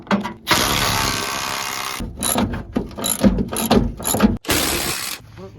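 Ratchet wrench working loose fender bolts on a Dodge D200 Sweptline crew cab truck, a long harsh clicking run followed by choppy bursts of ratcheting and clanks, close and loud, with a voice briefly in the mix.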